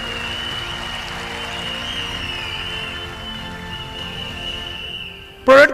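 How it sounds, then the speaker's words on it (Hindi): An audience at an IMC direct selling event applauds loudly and continuously, a dense even clatter under a steady electronic hum, closing with a sudden loud burst. "हमारी पूरी मैनेजमेंट के लिए एक बार जोरदार ताली होनी चाहिए।"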